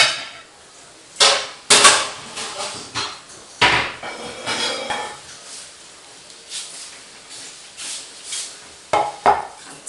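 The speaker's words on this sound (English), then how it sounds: "let me put oil into a container and into the oven" Kitchen clatter from making roast potatoes: a container knocked about and set down, with several sharp clanks and thuds of dishes and metal, then quieter scraping and handling, ending in a pair of loud knocks as the dish goes into the oven.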